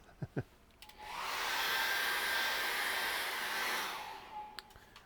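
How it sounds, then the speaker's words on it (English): A hair dryer switches on with a rising whine, blows at a steady high-pitched roar for a few seconds, then winds down; light clicks before and after. "I highly recommend a hairdryer"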